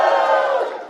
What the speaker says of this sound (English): I think everybody's just cheering at anything I say